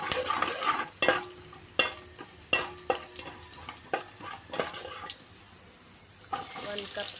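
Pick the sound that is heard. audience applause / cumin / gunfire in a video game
cumin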